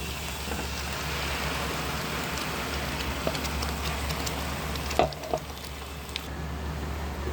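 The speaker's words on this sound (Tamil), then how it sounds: "இப்போ நம்ம இதில் இந்த ஸ்டேஜில் தக்காளியை விடுவோம்." Tomatoes hit a hot pan, and a quiet, steady sizzle hisses on with a few brief pops and crackles, no voices over it.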